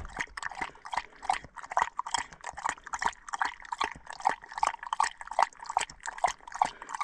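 A dog laps water fast and greedily on a dry day outdoors, with rapid rhythmic wet slurps repeating close to the ear for several seconds, no talking.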